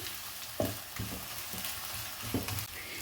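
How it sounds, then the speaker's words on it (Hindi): Quiet sizzle of onions and ginger garlic paste frying in a pan, a soft continuous hiss broken by a few spoon scrapes and taps. "इसे भी हम इसके साथ ही अच्छे से फ्राई कर लेंगे।"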